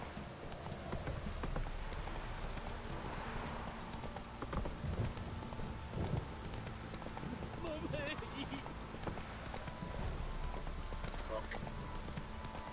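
Roach, the horse in The Witcher game, gallops with a rhythmic, continuous clip-clop of hooves at moderate volume, joined by other game sounds and a voice speaking over it.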